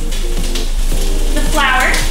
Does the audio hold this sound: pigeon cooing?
no